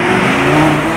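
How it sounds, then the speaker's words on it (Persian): A Lamborghini engine revving hard under acceleration, a loud, close, sustained roar with a steady droning pitch. "به گاز بده دیگه!"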